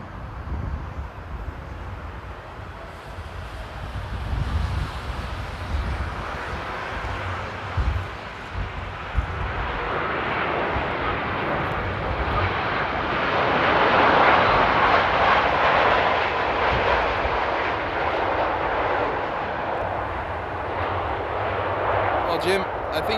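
A Boeing 787 Dreamliner airliner lands at Amsterdam airport in stormy weather, its engine roar and rushing noise swelling to a broad, sustained peak from a distance, with a person talking over it.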